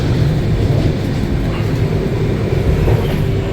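Heard from inside a coach, the 12881 Puri Garib Rath SF Express runs at speed between Balasore and Bhadrak with a loud, steady roar and rumble of wheels on track, broken by no pauses.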